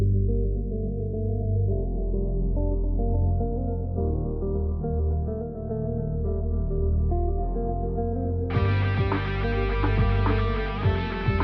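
Master-bus EQ filter automation on a Linkin Park-style beat with a wrist bass from a Serum preset, the sound held narrow and muffled at first, then the filter opens abruptly near the end into a bright, full mix.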